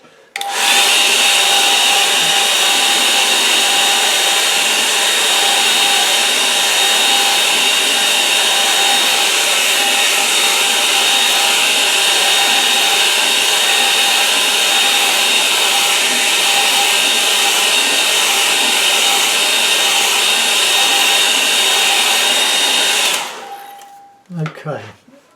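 Hair dryer blowing a steady, loud, continuous drone while drying watercolour paint on a painting of houses and bushes, running for about 23 seconds before switching off with a few soft handling sounds.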